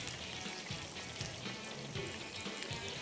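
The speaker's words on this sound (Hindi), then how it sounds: "मीनवाइल मैं क्या करता हूँ, इसे पानी डाल रहा हूँ, पानी डाल रहा हूँ" Water poured into a pan in a kitchen while cooking prawns, a steady splashing trickle with irregular low knocks, continuous and fairly close, no talk.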